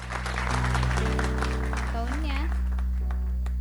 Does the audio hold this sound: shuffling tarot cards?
no